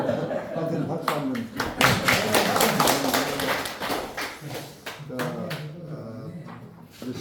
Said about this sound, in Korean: 하여튼 박수 한번